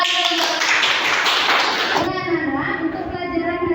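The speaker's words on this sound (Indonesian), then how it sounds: "Betul, tepuk tangan dulu untuk teman kalian." Schoolchildren in a madrasah classroom break into a dense burst of hand clapping for a classmate, lasting about two seconds, then it stops and a room full of murmuring voices carries on.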